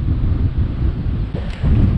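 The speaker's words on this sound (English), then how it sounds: "Windy day" Wind blowing on a lake while kayak fishing, buffeting the microphone in loud, low, gusty rushes for about two seconds, with no talk.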